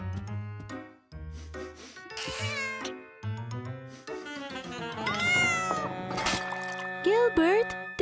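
Cartoon cat in a Caillou animated episode meowing several times with rising, wavering cries, mixed with a voice talking and background music; the meows grow more prominent toward the end.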